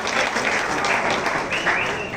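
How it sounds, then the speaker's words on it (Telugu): Applause at a Congress booth committee meeting welcoming Anjan Kumar Yadav, a steady broad wash of clapping from a crowd filling the whole moment without pause. "అంజన్ కుమార్ యాదవ్ గారికి గట్టిగా చప్పట్లతో స్వాగతం పలకాల్సింది"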